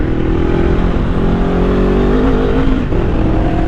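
Motorcycle engine running steadily loud and close, a continuous droning hum with a slight rise in pitch midway, heard alone without voices.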